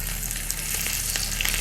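Mustard seeds, cumin and green chilli sizzle and crackle steadily in hot ghee, a close, continuous frying hiss with small pops throughout and no voices.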